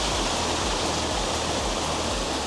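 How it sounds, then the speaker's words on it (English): Dokomali waterfall in Timor-Leste, the country's highest at about 200 meters, roars as a loud, dense, unbroken wash of falling water that fills the whole moment without any talk. "this is Dokomali waterfall, which is the highest waterfall in all of Timor-Leste"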